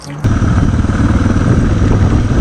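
A vehicle engine idles loudly and steadily at a fuel stop, a close, continuous low rumble after a brief quiet start.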